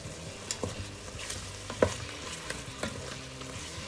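Pork carnitas with juice and cilantro stirred in a Ninja Foodi pot, a soft wet sizzle broken by a few sharp spoon scrapes and knocks against the pot.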